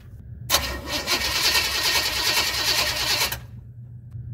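A 1966 Chevrolet Suburban truck engine cranks loudly with a rapid, steady churning for about three seconds, then the cranking stops, leaving a low hum.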